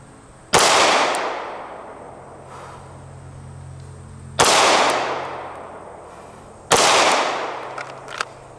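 Three loud, sharp pistol gunshots ring out at irregular intervals during a shot-in-shot drill at 5 yards, each a close crack followed by a decaying echo, with quiet between.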